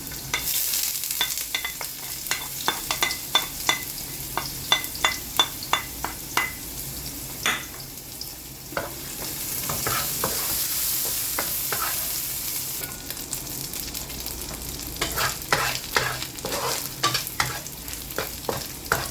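Small fish and garlic fry in a pan with a constant sizzle, punctuated by frequent sharp clicks and scrapes of a utensil stirring against the pan.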